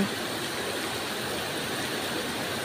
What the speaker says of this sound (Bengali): আজকে আমাদের এখানে বৃষ্টি হচ্ছে খুব জোরে